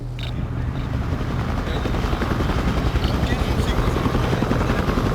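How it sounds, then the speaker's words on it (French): Helicopters fly overhead along a road near a beach, a loud, steady rotor drone throughout with smoke rising in the distance, voices faintly beneath. "Des hélicoptères sillonnent le ciel."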